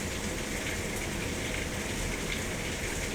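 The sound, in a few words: rain outside near a window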